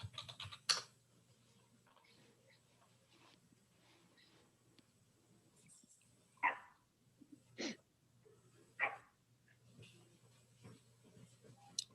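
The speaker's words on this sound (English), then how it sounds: "he's barking" A pet dog barks a few times indoors during an online meeting, short scattered bursts at a distance, mixed with keyboard typing and quiet room noise.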